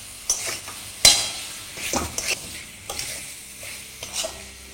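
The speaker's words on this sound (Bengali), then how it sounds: "তারপর স্বাদ মতো নুন দিয়ে এটাকে ভালো করে কষাতে থাকুন যতক্ষণ না টমেটোটা একদম পারফেক্টলি গলে যাচ্ছে।" Tomato wedges with salt being stir-fried in a pan for a soybean dish, faint sizzling beneath intermittent spatula scrapes and knocks against the pan, no speech.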